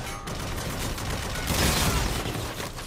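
Rapid gunfire from Call of Duty: Infinite Warfare, a brief burst of shots that swells about halfway through over constant game noise, with no speech.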